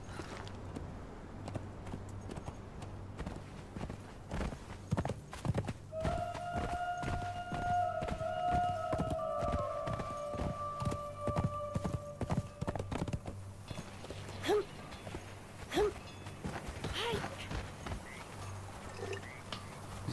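Horse hooves clip-clopping in the video game Conan Exiles, a steady rhythmic walking gait of crisp hoof strikes over a low hum, with a brief sustained tonal sound in the middle.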